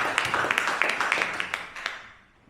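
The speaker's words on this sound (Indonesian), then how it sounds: "Tepuk tangan untuk rekan-rekan kita." Scattered handclaps from a small audience at a school training session, fairly close and moderately loud, thinning out and fading toward the end.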